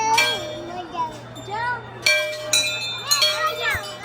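Children ring a metal bell at a Sheetla Mata temple, its bright clangs sustaining a ringing tone, while children's voices chatter and call out around it.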